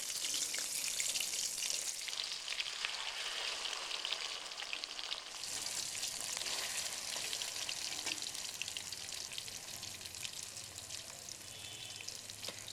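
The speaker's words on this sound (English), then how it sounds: "Makes a great sizzling sound, doesn't it?" Continuous loud sizzling and hissing from jumbo king prawns frying in hot mustard oil, crackling steadily up close without pause.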